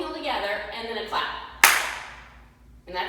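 One sharp, close hand clap ends a beginner waltz clog tap routine, ringing out after a woman's spoken instructions and decaying before she resumes talking.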